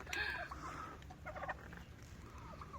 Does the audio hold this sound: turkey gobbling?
yes